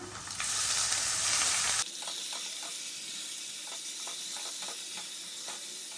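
Jackfruit pieces tossed into hot tempering in a pan, with a loud burst of frying sizzle at first that settles into a steady softer sizzle, punctuated by light stirring clinks.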